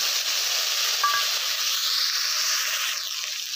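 A spice paste of ginger, garlic, cumin, coriander and dried chilli fries in hot oil for a Bengali pabda fish curry, giving a loud, steady, close sizzling hiss throughout.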